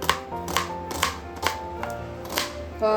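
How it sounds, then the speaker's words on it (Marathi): An onion is finely chopped with a knife on a board, giving about seven crisp, close, evenly spaced chops with no talking over them. "तर आता अगदी बारीक असं आपल्याला चिरून घ्यायचं आहे."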